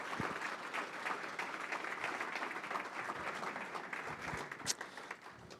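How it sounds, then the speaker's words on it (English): Sustained applause from an audience at a Memorial Day mayor's breakfast honoring a veteran, steady clapping filling the room throughout with no voices on top. "They're gonna clap for you first."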